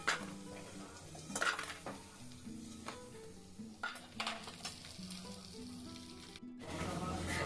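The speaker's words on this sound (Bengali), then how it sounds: "বড়িগুলো দেখুন ভাজা হয়ে গেছে, ঠিক এরকম গোল্ডেন ব্রাউন করে ভেজে নিতে হবে, একদম যেন পুড়ে না যায়।" Lentil dumplings (bori) frying in hot oil give off a steady, close sizzle, with occasional clinks of a utensil against the pan.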